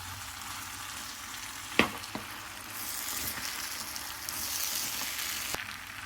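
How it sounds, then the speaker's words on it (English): Kala chana chaat sizzles in a hot pan as it gets a final stir with garam masala, a steady soft frying hiss punctuated by a few sharp clinks of a spoon against the pan. "giving it one final stir"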